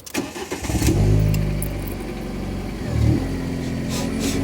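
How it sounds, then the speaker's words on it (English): A car engine cranks and catches, then settles into a steady, loud idle close by, with a brief second surge of revs partway through; no one speaks. "Turn the engine on."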